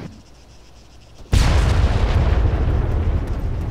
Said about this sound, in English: I hear a tank.